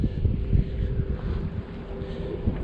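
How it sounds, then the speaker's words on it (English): Strong wind at North Pier buffets the microphone with a loud, rumbling roar, gusting unevenly throughout with no voices. "The wind is blowing like crazy."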